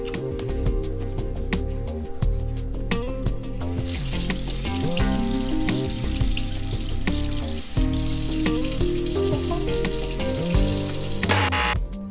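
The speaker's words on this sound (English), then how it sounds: "avoid washing your hands under the tap" Tap water runs steadily into a sink as a constant hiss and splash, with a spell of denser spray partway through, while background music plays underneath.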